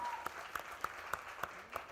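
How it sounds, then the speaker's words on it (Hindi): A small audience at a music TV show launch event claps in sparse, periodic bursts. The claps are soft and fairly distant, set against low background hum, with no speech. "कंगना के लिए जोरदार ताली हो जाए।"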